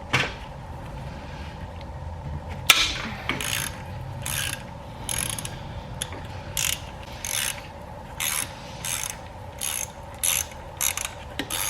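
A ratchet loosens bracket bolts during an AC delete kit install on a car engine, giving rapid clicking bursts repeated in short strokes, close and distinct, with a sharp metallic clank early on.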